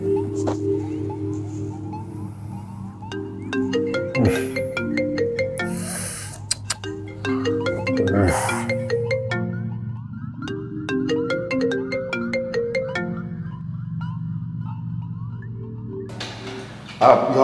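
An incoming call rings on a mobile phone, a repeating electronic melody of stepped tones playing in cycles for many seconds, steady and clear, ending with a brief louder noise.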